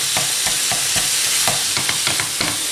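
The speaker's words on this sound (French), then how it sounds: "je vais mélanger jusqu'à ce que le mélange, la farce soit cuite, qu'il n'y ait plus d'eau" Chicken and vegetable filling frying in a pan under a constant sizzle, with a spoon stirring in regular, close scraping strokes about twice a second.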